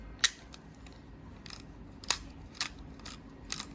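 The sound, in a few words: disposable camera shutter click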